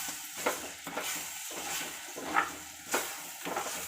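Egg and tamarind leaf stir-fry is stirred in a pan, giving soft repeated scraping and clinks of the spoon at an unhurried rhythm, with a faint sizzle underneath and no talking.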